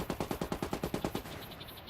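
Rapid automatic gunfire in the Ghost War video game, about a dozen evenly spaced shots in a quick burst that stops and leaves a short fading tail, moderately quiet and with no talk over it.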